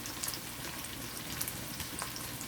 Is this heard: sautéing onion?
yes